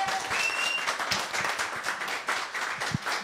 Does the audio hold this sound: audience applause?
yes